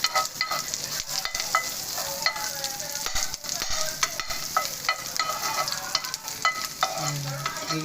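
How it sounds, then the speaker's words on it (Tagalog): Garlic frying in a pan while being stirred, a busy crackling sizzle with frequent scraping clicks of a utensil, steady and close, with no voices. "Gigisahin muna natin ng bawang."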